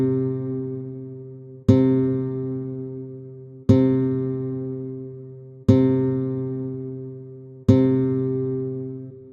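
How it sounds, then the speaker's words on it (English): Four sustained synth notes from the MidiStep iOS sequencer sound one after another, each struck sharply and held for about two seconds as it slowly decays, evenly spaced and clear with no talking. "So we've got 4 notes, 4 sustained notes going all the way across the 16 beats."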